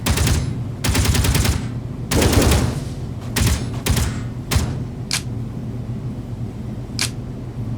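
Video game gunfire in loud bursts of rapid automatic shots, three long volleys followed by shorter clipped bursts and a few single cracks over a steady low rumble of game ambience.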